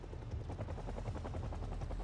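A helicopter in the zombie survival game Project Zomboid, a steady rhythmic rotor thumping that stays moderately loud and close throughout, with no talk over it.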